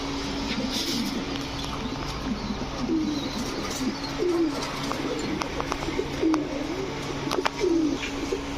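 Several large pigeons coo repeatedly nearby, soft throaty calls rising and falling over a steady background murmur, with occasional flutters and chirps.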